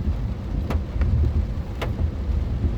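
Heavy rain pours steadily during a motorcycle ride, a dense continuous wash of noise with low rumbling and a few sharp clicks.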